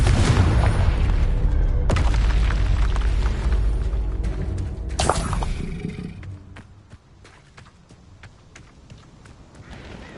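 Confringo fire spells blast in Hogwarts Legacy on PS5, a loud sustained roaring rumble with a sharp boom near two seconds and another burst around five seconds before fading to a lower ambient hum.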